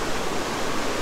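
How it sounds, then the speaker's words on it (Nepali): A mountain stream on a high Himalayan trekking route rushes in a steady, dense broadband roar, close and continuous with no voices. "यो खोला कहाँदेखि आएको त्यो चाहिँ थाहा भएन है"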